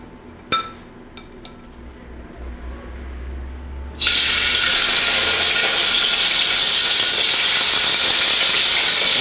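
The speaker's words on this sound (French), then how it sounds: "Maintenant, on va ajouter les crevettes." Shrimp dropped into hot oil in a wok, a few light clinks and taps first, then a sudden loud burst of sizzling that holds steady and bright to the end, close up with no talk.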